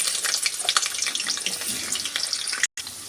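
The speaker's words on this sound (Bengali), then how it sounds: "এরপর আমি আলুগুলো সুন্দর করে লাল লাল করে ভেজে" Potato pieces frying in hot oil in a wok, a continuous dense sizzle with popping crackles and stirring, steady and close, briefly cut near the end.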